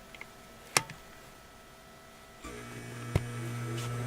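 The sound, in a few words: swamp cooler blower motor starting on inverter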